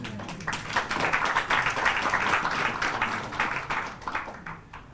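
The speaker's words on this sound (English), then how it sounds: "That requires an applause." Scattered clapping from an audience at a book launch in Kerala, a steady patter of hands that swells briefly and then thins out toward the end.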